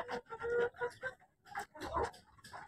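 Golden Misri hens cluck and murmur in short, uneven bursts close by on a poultry farm, a steady run of clucks with brief pauses and no talking.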